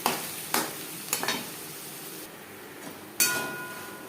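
Ghatkol (kharkol) leaf paste frying in a pan over high flame with black cumin and chilli, a close, steady sizzle broken by several sharp scraping bursts of stirring.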